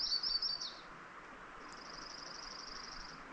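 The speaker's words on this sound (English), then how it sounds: "A lot of birds. Loads of birds." Several wild birds singing outdoors in late spring woodland: a brief bright trill up close, then a longer steady high chirping run farther off, over a soft ambient hum, with no voices.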